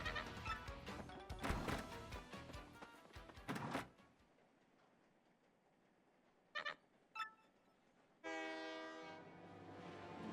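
A train in the video game Paper Mario: The Thousand Year Door produces busy chugging and clattering that stops abruptly, followed by a few short whistle blasts and then a sustained horn tone, with no speech.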